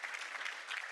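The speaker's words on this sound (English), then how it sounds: "that's a good clap right there" Audience applause rising in a steady, dense wash of clapping at a sponsor thank-you during an event, sustained and fairly close throughout the short burst.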